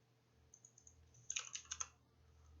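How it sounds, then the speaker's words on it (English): Quiet keyboard typing: a few soft isolated key taps, then a quick cluster of sharper clicks, close and otherwise alone. "while I type it out"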